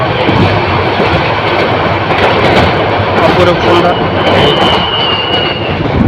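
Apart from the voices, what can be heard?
Mohanagar Provati Express train running fast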